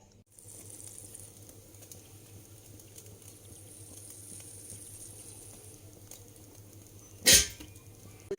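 Spices tempering in a pan for coconut chutney give a faint, steady sizzling hiss, then a sharp, loud crackling burst erupts briefly near the end.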